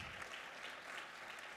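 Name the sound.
applause welcoming a speaker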